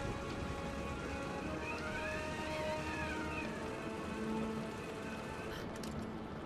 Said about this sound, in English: Wow, that's heavy rain. Is that hail?